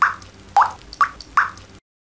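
A dripping faucet lets fall four distinct drops, each a clear, close plop about half a second apart, in a quiet indoor room before silence.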